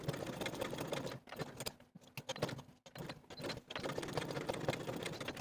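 A sewing machine stitches around the slit of a sleeve placket, following drawn guide lines on a dress sleeve. It gives a steady, close whirring hum that stops briefly twice in the middle and then runs on.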